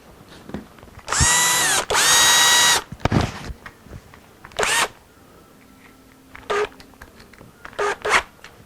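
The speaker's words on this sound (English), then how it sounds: "Switch back out to our tinier drill bit here" A small power drill with a small bit whirs in two short bursts, then several brief quick pulses, close up, with quiet handling noises in between, while building a 1964 Gibson ES-335 replica guitar.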